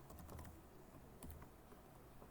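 Rapid light clicks of a computer keyboard as a file name is typed, a brief, close, quiet burst of irregular keystrokes with no talk.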